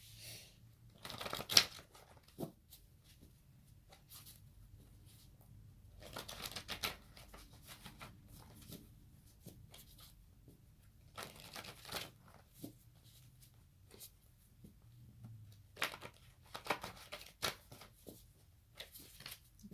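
Tarot cards being shuffled in repeated bursts of quick riffling and flicking, close and fairly quiet, with short pauses between each round.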